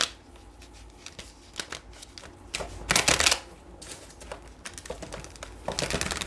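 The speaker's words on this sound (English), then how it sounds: "Let's go ahead and pull tarot." Tarot cards are shuffled in several quick riffling bursts, crisp papery flutters separated by brief pauses, close to the microphone.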